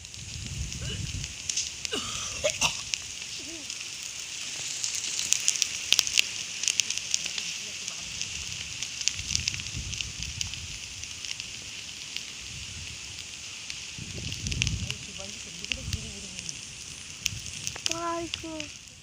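A traditional field-burning fire in the Konkan countryside crackles and hisses steadily, with a dense layer of popping and rustling and brief indistinct voices rising in places.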